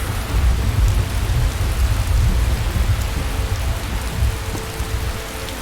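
Heavy rain pours down in Skyrim in a dense, steady roar with low rumbling underneath, loud and continuous, with no voices.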